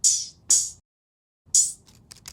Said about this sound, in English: What I use the pitch bend on here is an open hat.